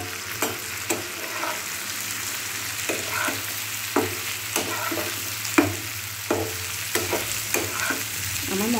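Pointed gourd stir-fried in a spice mix sizzles steadily in a pan while a spatula scrapes and stirs in regular strokes, close and fairly loud, with no talk.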